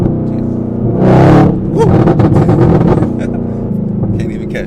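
Chevrolet Camaro ZL1 V8 on a cold start, close by and loud: a sharp surge of revving swells and falls, then settles into a rough, burbling idle with crackling pops.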